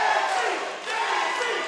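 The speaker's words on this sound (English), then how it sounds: "Hernandez getting a lot of love from the crowd" Arena crowd at a Muay Thai championship in Texas roaring and cheering for fighter Hernandez, a loud, continuous wash of shouting voices that dips briefly before swelling again.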